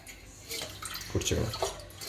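A tea pot being washed under running tap water, a soft splashing flow with brief swishes and rinsing bursts, close but fairly quiet, with no clear talking.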